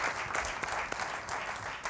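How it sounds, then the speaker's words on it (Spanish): Steady applause from an audience, dense clapping filling the whole moment without a break. "Un aplauso"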